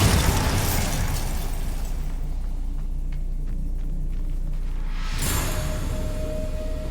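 In the Hogwarts Legacy video game, a Bombarda spell explosion bursts into a loud, rumbling blast that fades to quieter combat tones, then a second sharp burst follows near the end.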